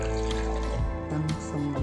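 Lukewarm water pours into a malunggay tangzhong mixture, a steady close liquid flow with a brief trickle and splash that lasts under two seconds.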